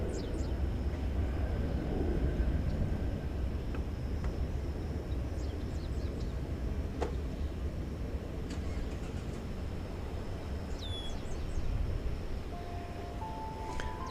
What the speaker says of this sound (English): This aircraft once again going to Denver, Colorado.